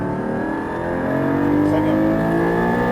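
A Porsche GT4 race car on a circuit at Fontenay-le-Comte, its engine droning loud and close with a steadily rising pitch as it accelerates, heard alone without talk.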